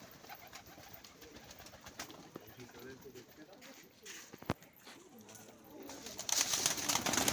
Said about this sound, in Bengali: আছে মাদি পায়রা, আছে নর।